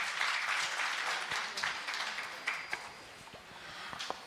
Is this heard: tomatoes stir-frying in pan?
no